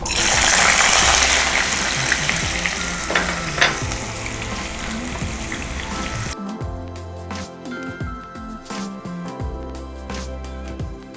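Carrots frying in a pan with already fried potatoes, a loud steady sizzle with stirring and scraping that quiets partway through into lighter crackles and clinks.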